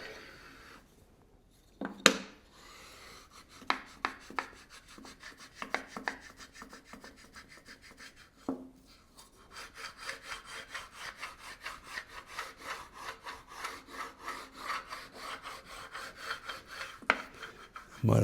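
A wood surface is smoothed by hand in a wood shop, with a few scattered knocks and scrapes at first, then a long run of steady, rhythmic rasping strokes close by.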